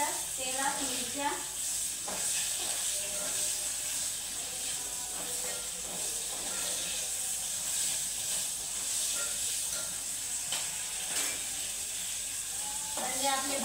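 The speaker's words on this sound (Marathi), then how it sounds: "मस्त फिरून फिरून अशा भाजून घ्यायच्या तेलात मिरच्या" Green chilies roasting in hot oil while being stirred around the pan, giving a steady close hiss and sizzle with soft scraping stirs throughout, a voice speaking over it.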